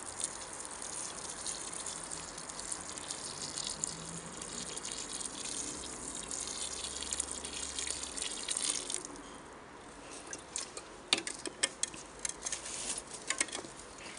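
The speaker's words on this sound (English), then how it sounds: "Now we're gonna water our new tree." Water patters steadily onto soil at the base of a newly planted tree during a classic tree planting, a continuous splashing wash that turns into scattered drips and taps toward the end, with no talking.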